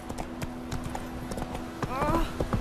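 Horse hooves clip-clopping along a road in The Witcher 3: Wild Hunt, a quick, even trot of close hoofbeats, with someone speaking over the last part.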